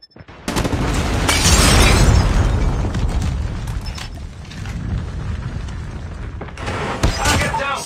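A missile strike in Call of Duty Mobile bursts into a loud, deep boom that rumbles and slowly fades over several seconds, followed by further crashing impacts and game noise.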